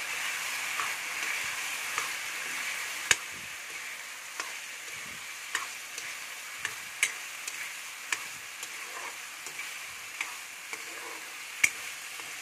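Boiled potatoes and spices fry in a pan with a steady soft sizzle, broken by occasional sharp clicks and taps from stirring, close by with no talking.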